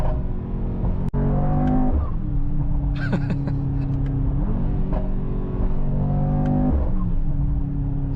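A Mercedes AMG GT 63 S E Performance hybrid accelerating from inside the cabin, engine note climbing through several rising sweeps with gear changes, a deep steady rumble throughout.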